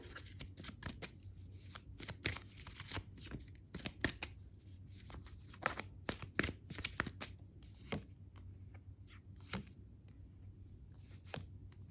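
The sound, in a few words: shuffling and drawing tarot cards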